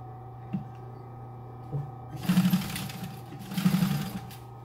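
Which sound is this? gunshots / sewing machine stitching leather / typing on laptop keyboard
sewing machine stitching leather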